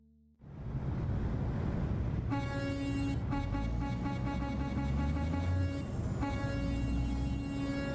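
A loud, sustained truck horn blast with a rich chord-like tone over a rumbling engine, briefly dropping out then sounding again, in American Truck Simulator.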